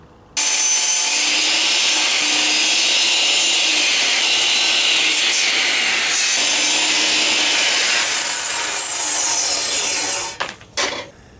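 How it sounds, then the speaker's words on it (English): A hand saw cuts off the edges of a wooden post being shaped into an octagon, a steady, loud rasping stroke sound running continuously up close, then breaking into a few short rough scrapes as the cut finishes. "Now we just have to cut off the edges, and that's going to make our octagonal shape"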